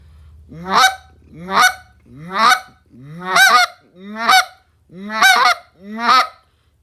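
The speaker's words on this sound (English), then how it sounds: "I'm going to do a handful of clucks, and then I'll do a double cluck." A handheld goose call blown by a person, giving a series of seven sharp honking clucks at a steady, even rhythm, loud and close with short pauses between them, and no talking.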